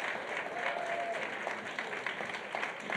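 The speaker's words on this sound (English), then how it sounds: "Just give a huge round of applause to our judges." Sustained audience applause at a women's empowerment event in Cape Town, a dense steady clapping from a room full of people honouring the judges, fairly close and continuous without talk.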